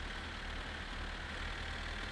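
A 1958 RCO Ruscko truck engine idles in My Summer Car, a steady low rumble with a constant hum, faint and unbroken throughout with no talk over it.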